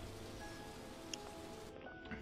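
Steady rain hisses throughout in the video game Whispering Willows, a continuous wash of falling drops with a few brighter droplet taps, moderately loud and alone.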